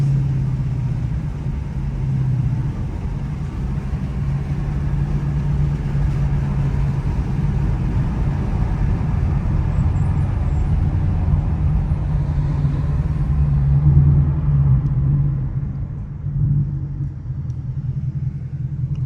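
A Ford Mustang GT driving downtown under a bridge, its engine a steady loud low rumble that swells slightly near the end, with no talking.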